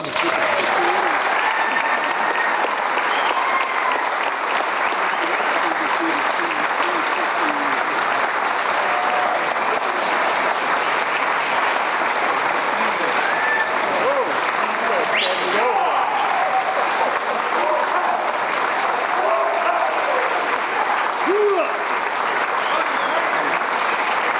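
Sustained loud applause from a hall audience honouring inducted athletic team members at a college hall of fame ceremony, steady and dense throughout with scattered voices and cheers mixed in.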